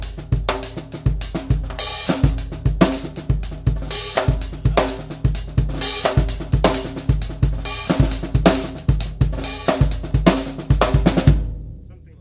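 Songo pattern on a drum kit with a driving eighth-note hi-hat and soft ghosted strokes between louder accents, played close and continuous for about eleven seconds before it cuts off.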